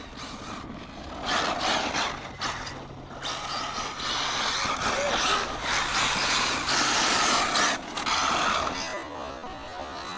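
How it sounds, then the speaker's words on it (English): Traxxas UDR and Arrma Mojave RC trucks tearing through dirt, electric motors whining in surges with gritty spray and rumbling bursts rising and falling, fairly close, with people talking over them. "both of these trucks are absolute animals when it comes to handling in the dirt"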